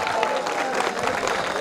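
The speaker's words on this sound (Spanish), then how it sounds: "súper fuerte ese aplauso para estos 4 valientes" Dense, steady applause from a crowd at a school cultural day fills the whole moment, loud and close.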